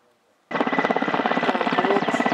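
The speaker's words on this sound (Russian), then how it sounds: "Прям над нами вертолет." A helicopter flies low directly overhead near a burning forest, its rotor beating in a loud, steady rapid chop that starts abruptly and stays close.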